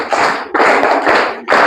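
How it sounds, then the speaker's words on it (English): A classroom of students claps in a few short, loud bursts separated by brief pauses during a science lesson. "Can we give her a round of applause?"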